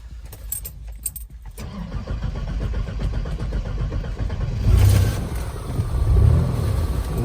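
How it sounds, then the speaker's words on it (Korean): A car engine cranks and starts after its battery has been recharged and refitted, opening with keys jangling and clicks, then a steady close idle rumble with a couple of swells in revs. "이제 시동을 한번 해보겠습니다"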